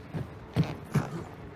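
Two low wooden creaks from a door opening in the video game Hunt: Showdown, close and fairly soft, each a brief groan about half a second apart, with no speech.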